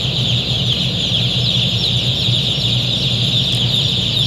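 Dense, continuous chorus of broiler chickens inside a closed poultry house on the second day of rearing, a steady near murmur of many birds with constant ventilation hiss and no talk.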